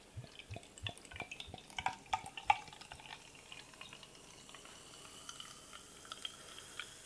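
Ægir Lærdøl sour cherry rye beer pours into a glass up close, with quick drips and splashes early that settle into a faint, quiet fizz of carbonation, and no talking.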